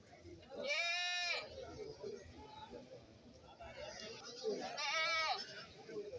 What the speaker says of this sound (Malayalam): എല്ലാം കച്ചവടം കഴിഞ്ഞ ആടുകളാണ്.